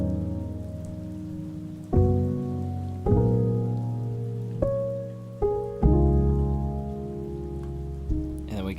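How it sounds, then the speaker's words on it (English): A light rain sample sits in an Ableton Live beat as a soft, steady hiss beneath loud, sustained synth chords that change every second or so. "A nice sheet of light rain in the background."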